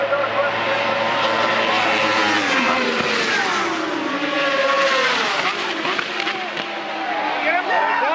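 Superbike motorcycles racing at full throttle in a Canadian pro race, a dense, loud high-pitched engine whine with shifting, swooping pitch as bikes pass, with an excited commentator talking over the noise throughout.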